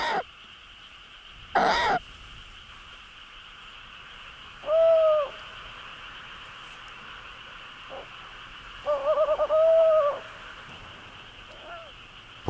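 Several short calls from a female owl at night in a forest, spaced apart over a steady background hum, some single and one a rapid doubled call, moderately loud and fairly close.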